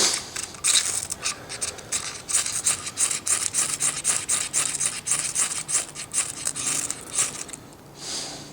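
A knife shaves curls from a stick of fatwood in a rapid series of close, dry scraping strokes with rhythmic rasping bursts, pausing briefly near the end before one last scrape.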